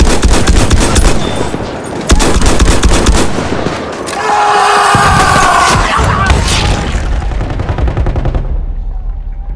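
Enemy machine gun fire in the Battlefield 1 battle, rapid bursts of loud close gunfire with booming explosions and battlefield noise, long sustained volleys mixed with faint voices.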